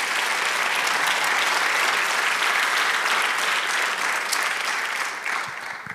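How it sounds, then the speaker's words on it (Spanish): Church congregation giving sustained, loud applause, a dense wash of many hands clapping for several seconds before easing off slightly at the end. "Dale un aplauso al Señor."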